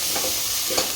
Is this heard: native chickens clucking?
no